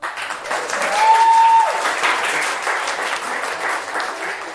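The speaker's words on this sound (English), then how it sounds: "Make some applause right now." A crowd breaks into sustained applause, many hands clapping steadily for several seconds, with a brief whistle rising above the clapping near the start.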